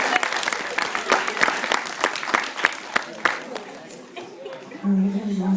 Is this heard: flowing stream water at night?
no